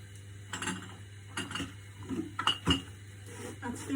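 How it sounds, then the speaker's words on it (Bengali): Tea is made in a cup with a spoon, giving faint clinks and a few sharper taps of metal on ceramic over a low steady hum. "সন্ধ্যার জন্য একটু চা বানাচ্ছি"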